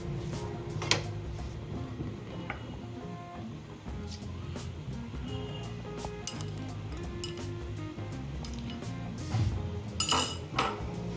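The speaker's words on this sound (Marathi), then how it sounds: "आता इथे आपल्याला खवा पण छान मिक्स करून घ्यायचा आहे सर्व साहित्यामध्ये" A utensil scrapes and clinks steadily against a pan while khoa is stirred into melted sugar for mango laddu, with soft irregular taps under a low, constant background hum and no talking.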